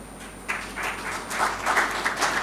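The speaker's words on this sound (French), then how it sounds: "je demanderai à l'assistance d'applaudir." An audience applauds at the launch of a digital programme, scattered claps that build into a fuller, uneven round of clapping, moderately loud and somewhat distant.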